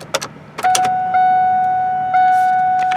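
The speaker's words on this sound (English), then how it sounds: "first just cycling the key, and then if it'll crank and start" Ignition key cycled in a Ford F150 pickup with a 4.2L V6: a steady electronic warning chime sounds close by after a few brief clicks and rattles. No clear engine cranking stands out.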